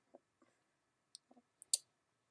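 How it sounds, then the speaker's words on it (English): Several short, quiet clicks and snips as a knife or cutter works through the seal on a 2021 Moto G Stylus 5G phone box, sparse and close, ending in one sharper crisp tearing snap, with no talking. "Anyways, I'm going to cut the seal."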